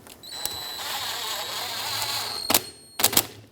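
A ratchet snugs a ball joint bolt on a 1996-2002 Toyota 4Runner, giving a few quick close clicks near the end after a steady background hiss, with no talking.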